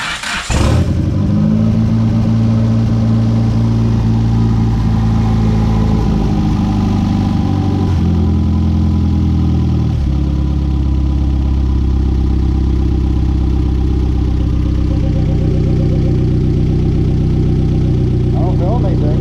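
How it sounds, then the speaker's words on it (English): A Chrysler Conquest engine idles with a newly installed blow-off valve, a loud, close, steady low rumble that holds evenly throughout with a slight shift in tone partway through. "this is with the blow-off valve hooked up."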